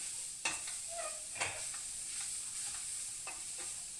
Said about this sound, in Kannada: ಗ್ಯಾಸ್ ತುಂಬ ಸ್ಲೋಗೆ ಇಟ್ಟಿದ್ದೀನಿ ಈ ಥರ ಫ್ರೈ ಮಾಡ್ಕೋಬೇಕು